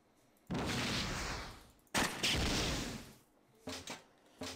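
Gunfire in the video game Fallout Online comes as two long, dense bursts of rapid shots, followed after a pause by a few short, sharp shots, loud and close with no talking.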